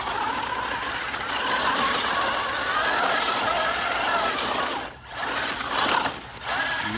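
Electric motor of a Vitavon aluminum-steering UDR RC truck whines steadily and close as it drives through turns, with brief dips in pitch and level near the end, no voices.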